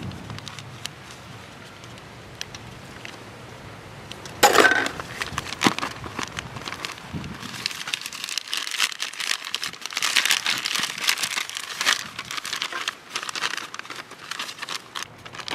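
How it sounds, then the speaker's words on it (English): A grow bag's fabric is folded and cut at the corners, giving close crinkling, rustling and snipping noises that grow busier and louder partway through, with no voices. "Fold it and cut the corners."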